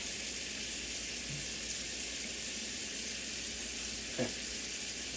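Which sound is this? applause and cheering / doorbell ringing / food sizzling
food sizzling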